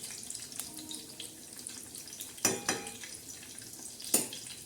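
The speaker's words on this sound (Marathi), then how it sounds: "अशा छानशा मिरच्या आज आपण तळत आहे" Green chillies coated in gram-flour batter with ajwain, salt and turmeric fry in hot oil with a soft, continuous sizzle, broken by a few sharper spoon clinks and splashes.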